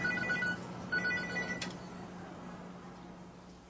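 A Tyco Sapphire cell phone rings with a short electronic ringtone in two bursts, then fades into a low steady hum.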